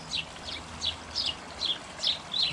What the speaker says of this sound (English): Noisy birds in that bush.